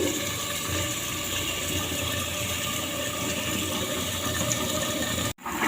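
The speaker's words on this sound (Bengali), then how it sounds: "চালটা ধুয়ে নিই" Rice being washed in a kitchen under a steady, loud rush of running water that churns continuously for several seconds, then cuts off abruptly near the end before resuming briefly.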